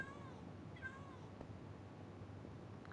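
Cats meowing in Minecraft, a few soft rising mews early on over a steady ambient game background, fairly quiet and without speech.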